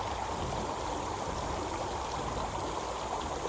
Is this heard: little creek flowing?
yes